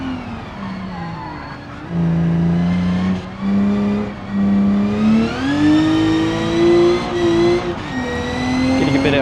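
A racing video game car's engine pulls hard under power, its tone rising and holding steady with brief dips between gears, loud and continuous with no other sounds.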